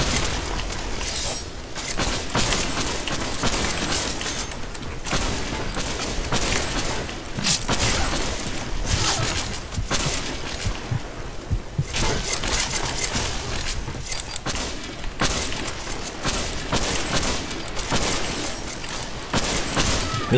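Gunfire from Counter-Strike with the AWP Dragon sniper rifle: loud, sharp shots and bursts repeat throughout amid constant game noise, with no talk over them.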